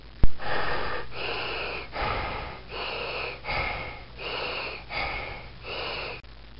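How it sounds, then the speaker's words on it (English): Heavy breathing heard over a telephone line, about seven slow, raspy inhale-exhale cycles in a steady rhythm, close and moderately loud with a thin, band-limited phone quality. "I can hear you breathing."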